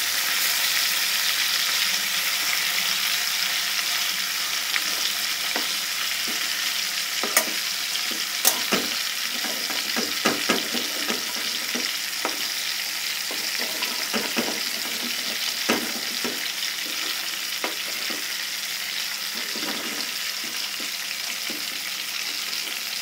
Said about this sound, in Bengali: মাছটা আমরা উল্টিয়ে নিয়েছি।